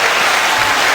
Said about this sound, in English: we'll get a round of applause for that